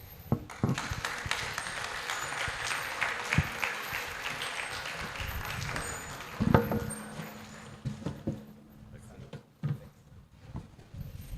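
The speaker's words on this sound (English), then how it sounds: "Another round of applause to our speakers." Audience applause for speakers at a health summit forum in a hall, moderate and uneven, with sharp individual claps, thumps and nearby voices talking over it as it fades.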